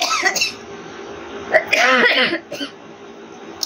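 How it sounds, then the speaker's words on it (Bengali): A few harsh coughs burst out close by, a throaty hack followed by shorter rasping coughs, with quiet pauses between. "হাওয়াটা ডাইরেক্ট হয়ে যায় আর কাশি শুরু হয়ে যায়"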